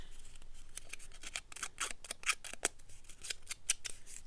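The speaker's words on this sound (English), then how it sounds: "Scissors that open up all the way are easier to do this with." Scissors roughing up book paper: rapid, irregular scraping and snipping strokes, crisp and close but fairly quiet, with no voices.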